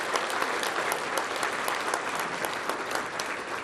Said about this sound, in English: So can we give Debbie a round of applause for all her work?